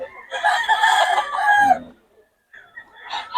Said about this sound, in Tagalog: Ayan, mga manok ni Boss Perry